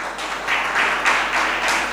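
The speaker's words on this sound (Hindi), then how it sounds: "मतलब ये आप लोगों ने ताली बजाई है" An audience at a Jain religious sermon claps together, a dense steady patter of many hands rising and falling in waves for a couple of seconds, with no voices over it.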